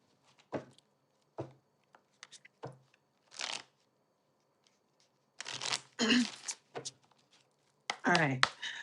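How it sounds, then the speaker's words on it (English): Tarot cards being shuffled by hand in repeated bursts of riffling and sliding, close and fairly quiet, with short pauses between rounds and a voice speaking in between. "I swear, I shuffle and shuffle and shuffle these cards"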